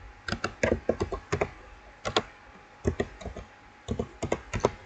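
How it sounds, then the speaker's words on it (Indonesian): Keys clatter on a computer keyboard while a remote access login and enable password are set up, in short bursts of quick taps separated by brief pauses, close and clear with no talking. "Di sini kita ketikkan saja."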